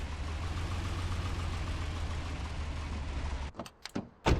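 A car with a bad exhaust idles steadily in Car Dealer Simulator, a low rough rumble running unbroken for several seconds before it cuts out into a few brief mechanical clunks.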